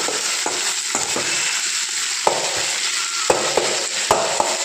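Tomatoes sauté in a pan for mint chutney, a continuous close sizzle broken by several sharp stirring knocks and scrapes of a spoon throughout.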